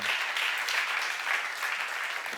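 A congregation at a church seminar claps steadily, a dense continuous wash of hand clapping at moderate level with no talking over it.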